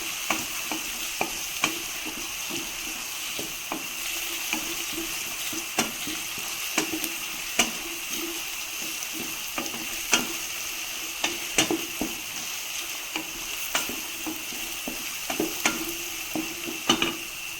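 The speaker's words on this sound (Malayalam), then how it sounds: "ഉള്ളി ഒന്ന് നന്നായി വഴണ്ട് വരട്ടെ." Onions fry in a pan for a Kerala-style chickpea curry, a steady bright sizzle running throughout with regular scraping clicks of a spoon stirring them, close and fairly loud, no voices.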